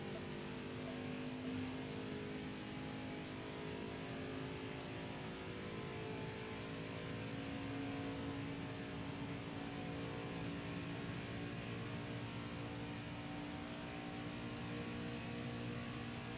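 Race car engine from the NASCAR Heat 5 video game during a Cup Series race, droning steadily and loudly as it climbs through the gears, with a constant mid-pitched roar throughout.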